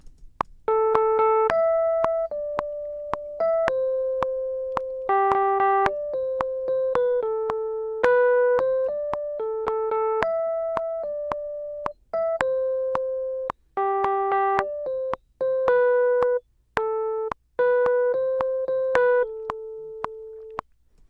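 A rough demo melody, sung or played as clear sustained tones, runs over a steady metronome click in tempo, close and alone, the notes rising and falling in short repeated phrases.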